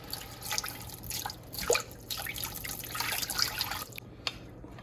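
Two cups of water are poured into a pot for Jamaican coconut peanut drops, a soft, close trickle and splashing of liquid with small drips, fairly quiet and without talk.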